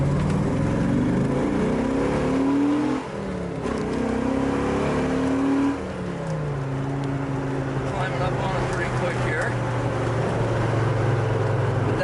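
A 1970 Dodge Challenger muscle car engine revs up at partial throttle through first and second gear, rising in pitch each time, then settles into a steady drone, with a voice over it.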